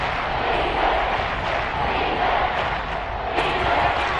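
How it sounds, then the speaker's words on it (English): Football stadium crowd in the fourth quarter before a big third down, a steady broad roar of cheering and crowd noise sustained throughout, with a slight surge near the end. "The crowd getting into it as we come up on a big 3rd down."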